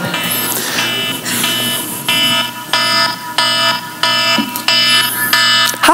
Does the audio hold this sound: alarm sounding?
yes